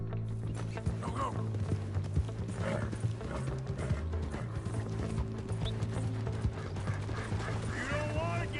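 Horse hooves clip-clopping at a gallop in a Spanish-language drama, a steady rhythmic pounding set among dense music and mechanical clatter, with brief voices and a whinny heard within the mix.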